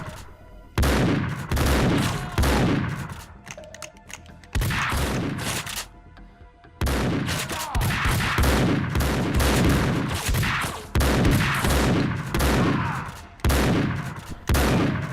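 A shotgun in the Max Payne 2 PC shooter fires repeatedly, loud heavy blasts in irregular bursts with brief pauses between volleys.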